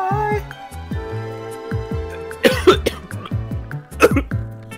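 Repeated harsh coughs from a player choking during a PUBG game session, bursting in quick clusters, mixed with throat sounds against low, steady game audio.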